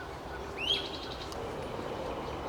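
A large flycatcher gives a single rising, whistled call at a birding festival, clear but moderately distant against a steady outdoor background hum.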